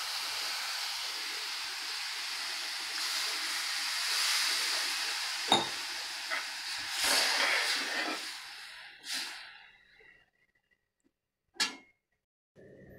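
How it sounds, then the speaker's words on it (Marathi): Colocasia leaf curry with cooked dal bubbles in a pan, a steady soft hiss and simmer with occasional sharper pops and clinks, fading out near the end. "भाजीला छान उकळी येत आहे।"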